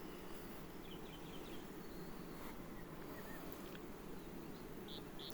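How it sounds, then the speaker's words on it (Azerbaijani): Steady, dense buzzing of many Carniolan honey bees close by at an apiary, a continuous hum with no pauses and no voices. "Arının cinsi Karnika Karol Perner'dən gələn F1'dir."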